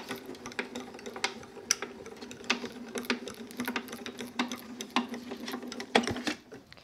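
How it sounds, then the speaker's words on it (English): A die-cutting and embossing machine being cranked through with a pink embossing plate, tan mat and base plate stacked inside, giving a steady near run of clicking, ratcheting mechanical ticks and small knocks throughout. "I'm going to do some embossing too"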